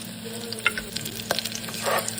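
Red chilli drops into hot oil already holding mustard seeds, cumin and fried chopped garlic for dal, giving a short, close sizzle with a few sharp crackles and stirring clicks.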